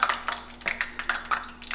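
Small clumps of cornmeal dropped into hot frying grease for Southern fried okra, giving a series of soft, quick sizzling bursts that repeat irregularly, close up and fairly quiet, with no voices.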